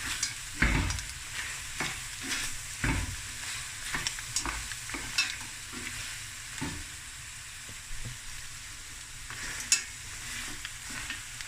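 Mussels sizzle steadily in a hot pan while a utensil stirs and scrapes them in repeated bursts, close and moderately loud, with no voices.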